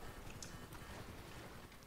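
Wind and water wash around a boat in a video game roleplay, a steady broadband rush with faint splashing, heard alone without voices.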